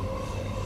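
Steady rumble of a moving commuter train carriage, heard from inside during a ride, a continuous low drone with a faint mechanical hum and no talk.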